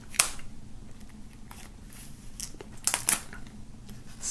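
Scissors snipping through shrink-wrap plastic foil on a music CD digipack, a few crisp cuts and crinkly tearing rustles, close and fairly quiet, with no talking.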